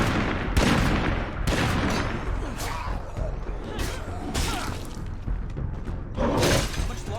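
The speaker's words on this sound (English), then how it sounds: "All of you shoot that juggernaut." Gunfire in a video game, a whole squad shooting at a heavily armored juggernaut enemy, comes as dense, overlapping bursts and crashing impacts at close range, with chaotic effects and some talking layered over the barrage.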